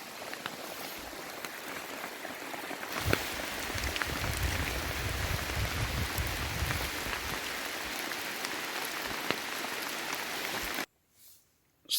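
Heavy rain pours steadily onto a camp with a tarp strung overhead, a dense, loud hiss that swells slightly after a few seconds and cuts off abruptly near the end.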